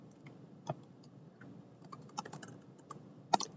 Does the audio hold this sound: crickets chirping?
no